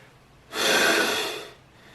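One deep breath during a yoga pose for the hips: a loud, close, airy rush of breath lasting about a second, swelling fast and fading, alone against quiet room tone.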